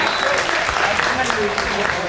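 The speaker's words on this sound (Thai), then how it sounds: "ชมและก็เสียงปรบมือเป็นกำลังใจให้กับนักกีฬาทั้งสองทีมอีกครั้งหนึ่ง" Spectators at a friendly football match applaud both teams. The clapping is a steady wash of crowd noise under a commentator's voice.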